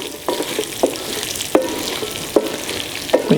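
Potatoes with rosemary frying in a pan and being stirred quickly, with steady sizzle and a spatula scrape roughly every second. The scrapes are close and clear, and no one speaks.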